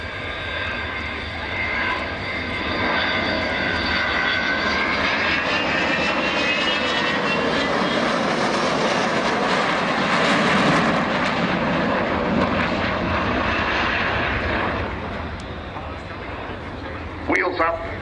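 An Avro Vulcan bomber's engines approach at the Waddington air show in 2011, a loud, continuous roar that swells and holds with a rising howl, then eases near the end as a voice speaks over it.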